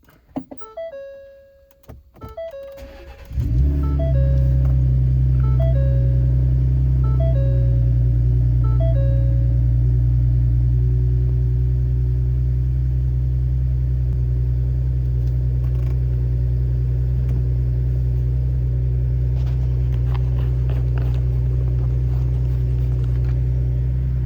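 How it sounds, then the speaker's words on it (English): A 2021–2025 Ford F-150 pickup fires up after a few faint clicks and chimes, then settles into a loud, steady, close idle rumble that holds for about twenty seconds. "we're gonna start the truck up"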